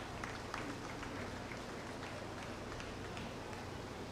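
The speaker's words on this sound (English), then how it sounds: "Let's give him a big round of applause." Crowd applause at a county fair junior breeding and feeder calf show, a soft, fairly distant patter of clapping holding steady throughout, with a few sharper individual claps standing out.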